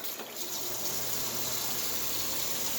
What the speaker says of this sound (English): we're going to need some more hot water to fill that back up a little bit